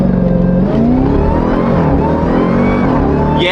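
A twin turbo Lamborghini launches hard under automatic shifting, its engine roaring loud and close as the revs climb, with a quick shift early on before the pitch rises again.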